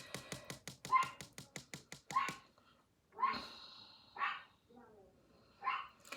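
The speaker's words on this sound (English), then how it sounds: "Excuse my pup or two if you can hear him. The mailman just came by." A dog yips and whines indoors after the mail carrier passes, giving a quick string of sharp, fairly near barks and then scattered whimpers. A person talks between them.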